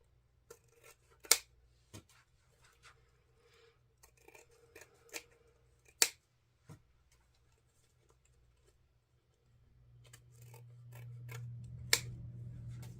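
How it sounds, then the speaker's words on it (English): Sharp snips of scissors trimming ribbon ends, a few distinct clicks spaced apart, close up, followed by a low steady hum near the end. "grab your scissors and trim your ends"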